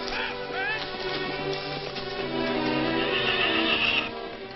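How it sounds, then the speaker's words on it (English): Horses on a 1940s Western film soundtrack whinny and neigh several times at moderate distance, layered over a busy background of music and bustle. "Hurry up with them horses."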